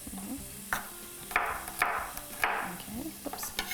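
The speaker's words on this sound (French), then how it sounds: "Je vais juste couper ça grossièrement." A knife coarsely chops vegetables on a cutting board while moussaka with eggplant is being prepared, giving four or five distinct close thuds at an uneven pace, with faint kitchen noise between the strokes.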